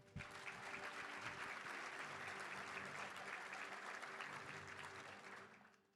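A large audience at a Little Rock Touchdown Club luncheon applauds honoree Owen Duke of Pulaski Academy, a steady, dense wash of clapping that holds for about six seconds before tapering off, heard faintly from a distance.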